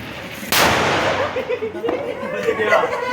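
Firecracker bursting during Diwali celebrations in Lucknow, a sharp loud bang followed by a second smaller crack, with people talking and laughing around it.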